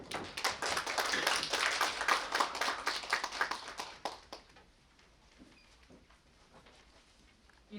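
Audience applause in a conference hall after a fact-checking presentation, a dense burst of many hands clapping for about four seconds, then trailing off into a few scattered claps.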